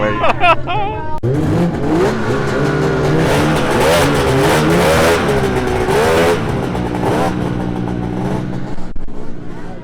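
A Thundercat 900 snowmobile fitted with a 1000 top end and heavy nitrous screams loudly under hard acceleration, a sustained high engine whine rising in pitch and staying close, with some crowd voices faintly mixed in.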